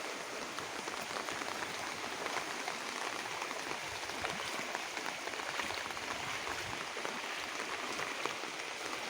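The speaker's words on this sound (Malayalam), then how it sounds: "നല്ല മഴ പുറത്ത് പെയ്യുകയാണ്" Steady rain falls outside, a soft continuous patter with no voices.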